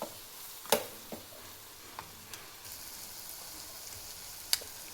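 Chilli paste frying in the same oil used earlier for eggs, giving a faint, steady sizzle broken by a few sharp crackles and pops, with no talking.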